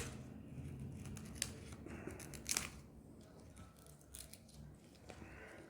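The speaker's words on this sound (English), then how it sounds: "I'm just gonna cut it down to my soil level" Scissors or pruning shears snip a plant down to soil level, giving a few short, close crunching cuts over quiet background rustle.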